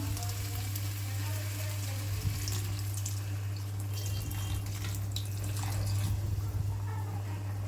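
Hot water poured into a pan of rice and chicken sizzles and bubbles steadily, close up, over a constant low hum, with small splashes and clinks scattered through.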